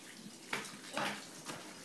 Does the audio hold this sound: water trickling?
yes